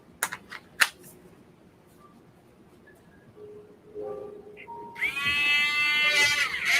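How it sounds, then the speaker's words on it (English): A small cordless Dremel rotary tool spins up after a few sharp clicks and handling sounds, settling into a steady, bright, high-pitched whine that holds close and fairly loud to the end, with no talk. "make some Dremel noise"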